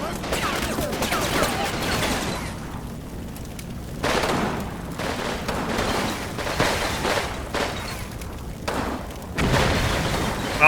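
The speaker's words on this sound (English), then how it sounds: "that submachine gun is still a bit annoying" Submachine gun fire in the wartime strategy game Combat Mission: Red Thunder, heard as dense, fairly loud repeated bursts and thuds with brief pauses, alongside rumbling explosions throughout.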